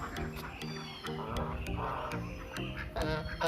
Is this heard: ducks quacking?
yes